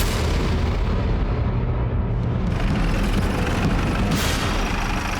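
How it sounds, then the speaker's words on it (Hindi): A loud explosion blast in a house kitchen, strong enough to blow out the window, gives a dense, sustained roaring rumble throughout with a brief bright burst near the end and no talking. "बड़ी जोर का धमाका हुआ था, किचन का विंडो से उड़ गया।"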